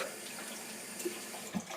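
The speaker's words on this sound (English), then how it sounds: "I'm going to take my water, putting it in an ice tray" Tap water running into an ice cube tray at a kitchen sink, a steady close hiss with a couple of small splashy surges near the end.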